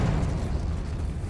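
Confringo explosive spell blast in Hogwarts Legacy, a dense continuous roaring burst of fiery noise with heavy low rumble, loud and close throughout.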